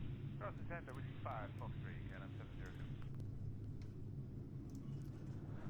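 An Airbus A330-900 taxis in a flight simulator, its steady, low jet-engine rumble running throughout while someone talks over it during the first half.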